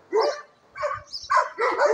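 Several hunting dogs bark in short, sharp bursts close by, yips and woofs overlapping in a quick uneven rhythm.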